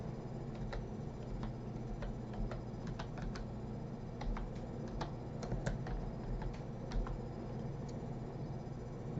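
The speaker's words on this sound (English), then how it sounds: "So we're gonna type in here" Typing on a computer keyboard, soft close key clicks in irregular bursts over a quiet room hum, with no voices.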